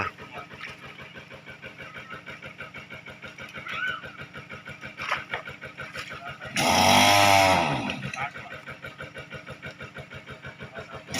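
A small engine runs a pump drawing water out of a pond, a steady rapid chugging that continues throughout, briefly covered by a louder broadband rush midway, with voices faintly underneath.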